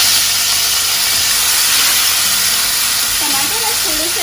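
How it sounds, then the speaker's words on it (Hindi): Chopped tomatoes hit a pan of roasted cumin, a loud steady hiss and sizzle of frying that runs unbroken throughout, with a low background hum and no talking. "अब इसके अंदर हम टमाटर डालेंगे, जो मैंने 3 टमाटर कट करके रखे हुए हैं।"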